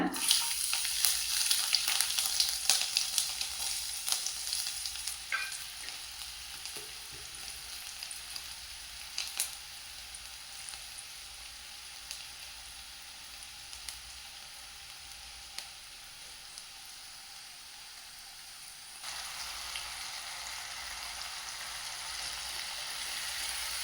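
Chopped tomatoes and green chillies fry in hot oil with a steady, dense hiss that stays loud and even, a few faint clicks on top and a slight lift in the sizzle near the end.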